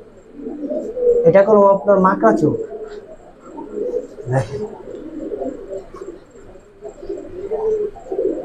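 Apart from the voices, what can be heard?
Giribaz and coloured pigeons cooing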